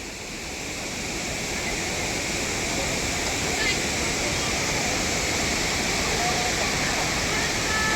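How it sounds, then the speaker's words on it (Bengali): Jonha Falls near Ranchi: a strong, constant roar of falling water, heard close up, steady and unbroken throughout. "দেখার মতো একটা ঝর্ণা।"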